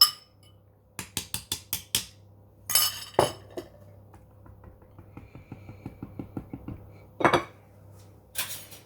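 A utensil clinks and scrapes against a bowl while prunes are stirred into a mixture, with quick bursts of metallic taps followed by a steady run of light, even knocks, close and moderately loud.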